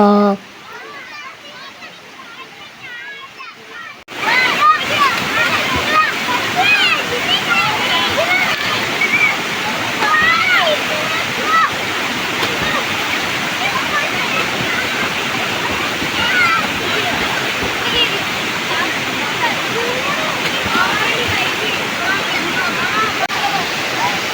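A waterfall in a home village, a steady rushing roar of falling water that starts abruptly after a short quiet moment and continues loud and even, with children's voices chattering over it.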